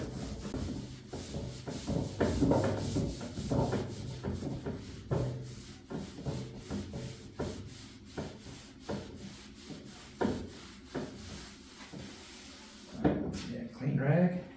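Rag wiping along the surface of a 100-year-old oak table with the grain, repeated close rubbing and swishing strokes in a steady rhythm, with a person talking throughout.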